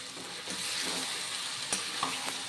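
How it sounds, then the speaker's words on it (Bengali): Marinated chicken frying in a hot pan, a steady close sizzle with occasional stirring clicks and scrapes. "এবার আমি ম্যারিনেট করা চিকেন এর মধ্যে দিয়ে দিলাম"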